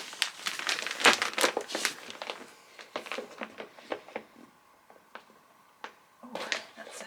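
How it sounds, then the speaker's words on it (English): Thick plastic wrapping is peeled off a delivered parcel, giving loud, close crinkling and crumpling in dense bursts that thin out into scattered rustles and sharp crackles. "Oh, that's a thick plastic wrapping."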